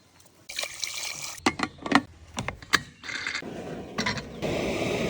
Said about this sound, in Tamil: மட்டன் முங்குற அளவுக்கு தண்ணி ஊற்றி மட்டனை நல்லா வேக வச்சுக்கலாம்.